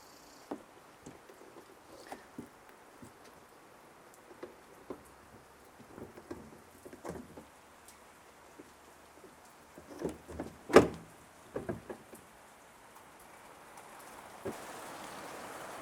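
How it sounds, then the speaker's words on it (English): Rain falls outside an open garage during a car bumper swap, a soft steady patter with scattered drips and a few louder taps, heard alone with no talking. "because it's raining"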